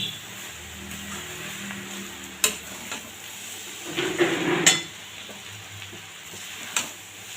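Leftover roti pieces are stir-fried and tossed in a pan, with a low sizzle under scattered metallic clinks and scrapes of a spatula, close and moderately loud.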